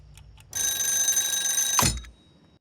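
An alarm clock in a TV show rings loudly with a bright, steady electronic tone for about a second and a half, then stops abruptly, leaving a quiet room.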